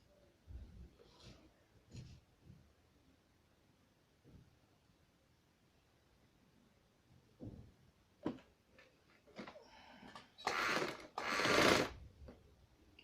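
Sewing machine stitching fabric for a bridal maxi dress: a long quiet stretch with faint scattered taps, then loud, close bursts of rapid machine stitching near the end.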